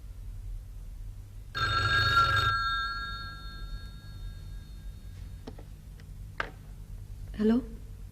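A telephone in an indoor drama scene gives one clear ring lasting about a second, followed by a quiet room with a few faint clicks and a brief soft noise.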